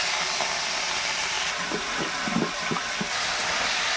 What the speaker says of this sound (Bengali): আমার তেলটা পুরো গরম হয়ে এবার পুড়ে যাচ্ছে, তাই আমি তাড়াতাড়ি করে একটু কড়াইয়ের মধ্যে গুগলিটা ছেড়ে দিই